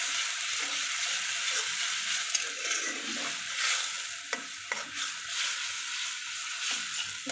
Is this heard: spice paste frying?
yes